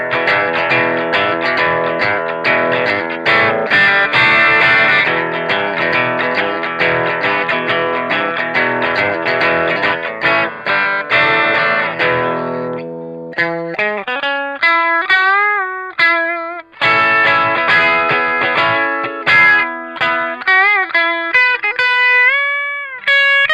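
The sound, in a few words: electric guitar through distortion effects pedal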